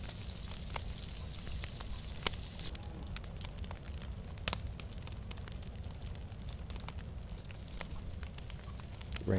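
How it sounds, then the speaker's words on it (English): Steady rain falling in the video game DayZ, a dense even hiss with scattered drop ticks throughout, fairly faint and continuous with no talk. "Rain stopping, of course."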